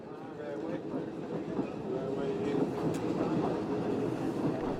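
A 2-foot gauge narrow-gauge train on the Talyllyn Railway rolls along the track with a steady, continuous rumble and faint wheel clatter, heard from on board at an even, moderate loudness.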